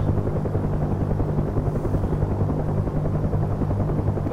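A steady, dense helicopter rotor thrum from a flight simulator game, constant and loud throughout with no talk.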